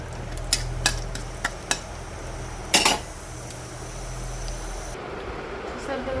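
Tempering frying in a pan for cabbage and bengal gram curry, with several sharp metal clinks of a spoon against the pan and a soft sizzle under a steady kitchen hum.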